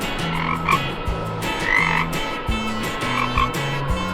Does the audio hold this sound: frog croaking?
yes